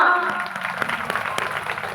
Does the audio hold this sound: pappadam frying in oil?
no